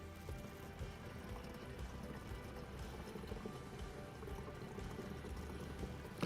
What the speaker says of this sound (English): all you do is simply fill the flush up until you can see it level with this filler point